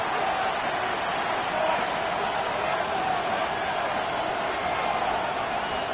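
A football stadium crowd keeps up a constant loud roar to force a false start, a dense wall of noise with no breaks.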